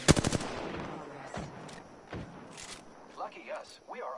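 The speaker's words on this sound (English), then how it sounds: "he's shooting me with a shotgun" Gunfire in the shooter game Apex Legends: a loud rapid burst of shots opens, followed by scattered single blasts and thuds, with game effects and movement sounds in between.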